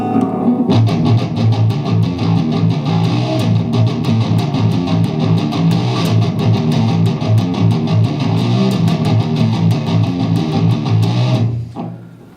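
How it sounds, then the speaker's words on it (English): Heavily distorted electric guitar chugs through a palm-muted riff, a dense, loud, driving stream of tight rapid strokes that holds steady for about eleven seconds before cutting off abruptly, no voices. "It starts out with a palm mute, and it sounds a little bit something like this."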